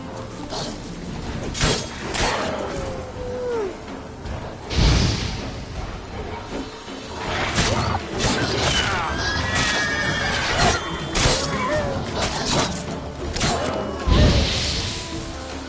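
Roach, a horse in a video game, neighs and whinnies several times over galloping hoofbeats and whooshing game effects, with a voice talking intermittently.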